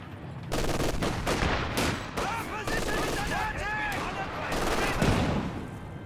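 Sustained MG-42 machine gun fire in Company of Heroes 2 rattles in dense, continuous bursts over a busy battle soundscape of other gunfire and explosions, loud and close throughout, with faint voice callouts mixed in.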